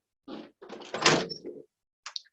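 A front coat closet door in a house is handled, giving a few close knocks and rattles and a brief thud, with a small click after a pause in an otherwise quiet room.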